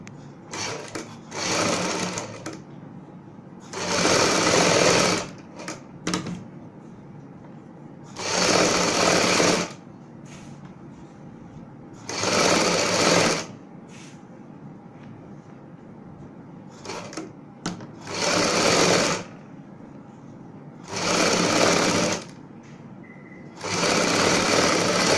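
A sewing machine stitches a folded buckram patchwork piece onto a kurti neckline in six or seven loud, close bursts of a few seconds each, with quieter gaps between runs.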